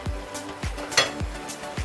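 Food sizzles steadily in a pot of chicken stew as it fries, with soft, regular stirring knocks about every half second, close and moderately loud.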